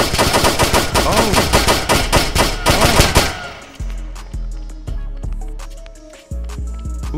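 Rapid automatic gunfire in a shooter video game set in the Bronx, a dense loud burst of shots for about three seconds, then scattered single heavy shots with booming low tails.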